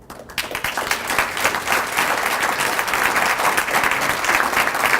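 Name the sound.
audience applause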